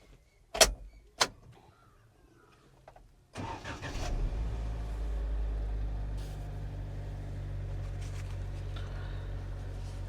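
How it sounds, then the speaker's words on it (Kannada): A loaded farm vehicle carrying a cotton crop starts up: a couple of sharp clicks, then the engine catches with a sudden burst and settles into a steady, loud idle. "ಗಾಡಿ ಅಂತೂ ಸ್ಟಾರ್ಟ್ ಮಾಡಿದೆ"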